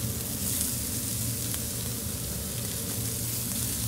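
Pancetta and sausages sizzle loudly in a hot pan, a dense, steady crackling fry that stays close and constant throughout.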